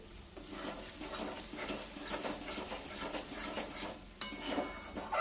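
Spice masala of ground coriander, chilli powder and turmeric, with a little added oil, cooked in a pan for egg curry while being stirred, giving a steady close sizzle with repeated scraping and clinking of a spoon against the pan.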